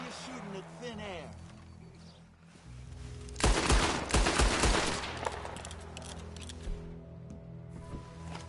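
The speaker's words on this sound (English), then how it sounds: "Why are you shooting at thin air?" A loud, dense burst of gunfire erupts from Red Dead Redemption 2, rapid overlapping shots lasting about two seconds and then trailing off into ambient noise, with a voice talking before and after.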